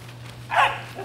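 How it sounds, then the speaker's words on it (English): A Doberman puppy about ten weeks old lets out a single short, sharp bark close by during protection training, with a faint low hum underneath. "Let's get a couple barks and we'll let him rip"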